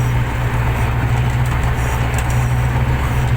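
A T-150 wheeled tractor's engine drones steadily while driving, a loud, continuous low rumble that stays close and even throughout, with no voices.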